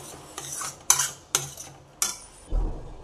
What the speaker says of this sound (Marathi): 1 चम्मच आपण गरम मसाला टाकून घेऊयात, मिक्स करून घेऊयात।